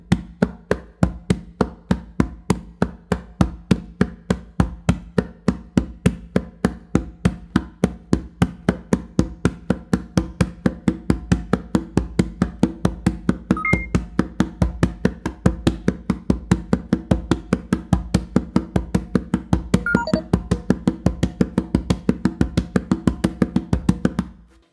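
Hand drum exercise of flat bass tones mixed with fingertip strokes, a fast steady stream of dense, even taps that holds a continuous rhythm throughout, close and alone.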